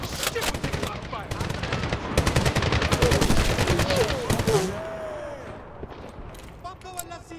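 Heavy gunfire in the military shooter Medal of Honor (2010): sustained fusillades of machine-gun and rifle fire crackle loudly and close, with shouted voices over the top, before the shooting thins and scattered shots trail off.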